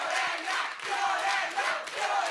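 A studio audience at a televised interview with a singer cheers and applauds, a dense crowd roar with voices rising and falling in waves for a couple of seconds.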